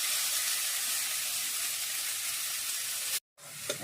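Lote fish fried in a pan with onion, chilli powder and turmeric gives off a steady, loud broadband sizzle that holds evenly for about three seconds, cuts out abruptly, then comes back more faintly.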